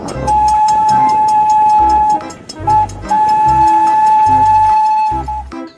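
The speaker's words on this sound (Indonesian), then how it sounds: "lihat teman-teman, ada kereta api Thomas." Thomas toy train running with a steam whistle, a loud sustained whistle tone sounding in repeated bursts over rhythmic chugging pulses and mechanical clatter, close by.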